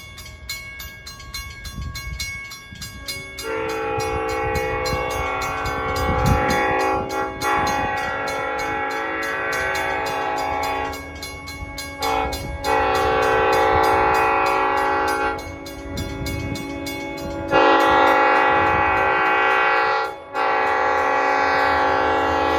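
Long Island Rail Road train horns blare in long sustained chords on the Montauk Branch, sounding repeatedly with short breaks over the low rumble of the passing train.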